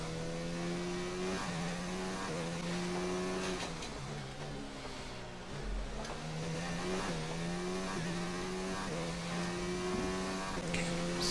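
F1 race car in the F1 2019 video game, Brazil qualifying, driving into the pits: a sustained engine whine that rises and falls with gear changes and brief tire noise, steady and close, with no talk.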